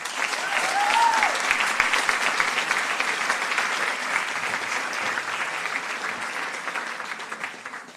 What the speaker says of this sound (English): So I think she deserves a round of applause as well.